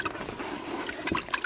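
Water pouring and splashing out of a container holding a freshly caught fish haul, a brief, close, irregular gush of liquid.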